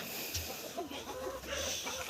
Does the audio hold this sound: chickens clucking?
yes